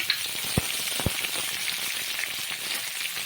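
Malabar spinach greens (pui shak) with salt and turmeric sizzle quietly in a pan, a steady hiss broken by two sharp utensil knocks early on.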